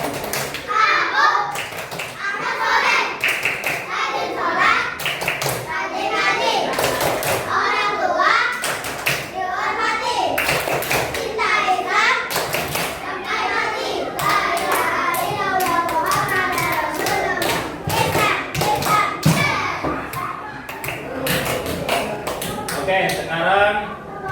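Schoolchildren in a classroom clap out the rhythmic 'tepuk anak soleh' chant, steady hand taps and claps running throughout alongside children's chanting voices and a teacher's talk.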